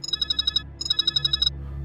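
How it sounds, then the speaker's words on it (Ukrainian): A telephone ringing in a spoken horror story, two bursts of rapid electronic trills with a short gap between them, loud and close with no voice over it. "Нашу розмову перервав дзвінок дівчини мого товариша."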